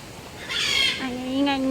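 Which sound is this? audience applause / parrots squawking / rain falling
parrots squawking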